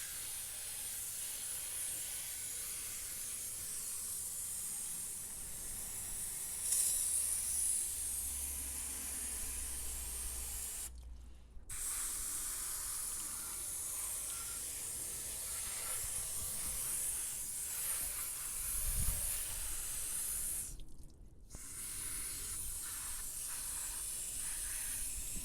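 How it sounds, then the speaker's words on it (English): A steady hiss of water lightly sprayed onto a car door jamb runs throughout, broken by two brief pauses, with a soft low thump partway through. "just a light spray of water to loosen all the big debris"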